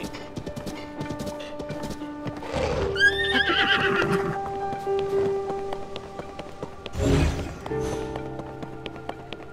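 A horse in Zelda: Tears of the Kingdom gives two loud whinnies a few seconds apart, with soft clip-clopping hooves and a patter like light rain underneath.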